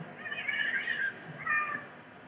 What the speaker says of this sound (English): Do you hear these cats?